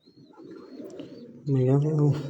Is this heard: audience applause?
no